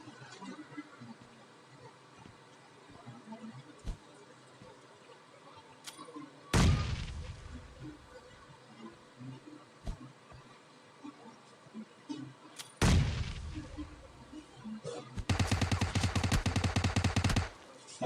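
PUBG Mobile Lite gunfire in a solo-versus-squad match, with isolated shots at first, two loud booming blasts, and then a sustained rapid burst of automatic fire near the end over quieter game ambience.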